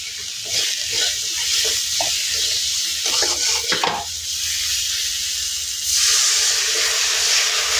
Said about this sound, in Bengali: জলটা দিয়ে দিলাম মশলাটা কষানোর জন্য